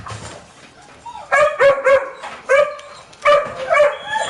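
Dogs bark in bursts of several sharp, loud yaps, near and clear, with short pauses between groups and faint whimpering underneath.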